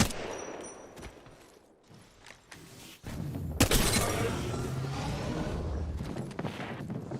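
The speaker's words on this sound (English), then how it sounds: "Little airstrike action." In Apex Legends, Gibraltar's ultimate airstrike pounds an area while gunfire crackles, with a loud sudden blast midway followed by a dense rolling barrage of explosions and shots.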